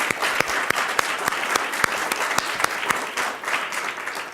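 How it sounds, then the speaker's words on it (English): An audience at a school district governing board meeting applauds in a steady, even round of clapping, with individual sharp claps standing out against the crowd's continuous patter. "If we can give him a big round of applause"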